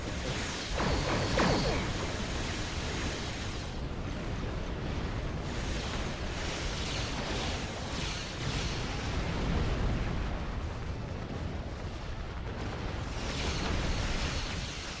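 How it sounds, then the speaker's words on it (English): Starship torpedo impacts in Star Trek Online, heavy rumbling space-combat explosions and whooshes rolling on continuously over fifteen seconds amid mechanical battle noise, fairly distant and steady. "I like how my torpedoes feel like they're doing more damage than anything else."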